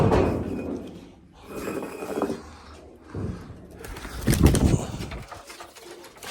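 A wild pigeon coos nearby in low, repeated throaty phrases, with a faint bump or knock partway through.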